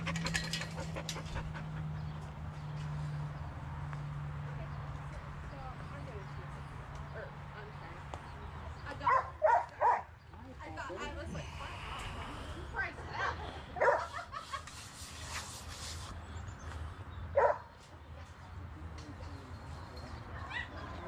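Dogs yip and bark in a few short bursts, with soft panting and sniffing between them, while a person talks to them throughout.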